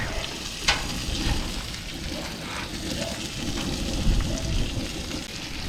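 Marron crayfish sizzle and crackle on their backs in the shell over a bush campfire, a steady close frying hiss with small pops throughout.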